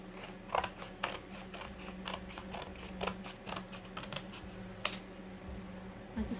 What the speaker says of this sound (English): So then I just cut out my strips.